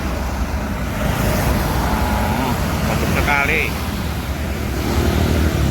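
A convoy of Pajaria Wisata tour buses rolls along a road, giving a steady, loud drone of engine and tyre noise that never lets up, with a short spoken remark partway through.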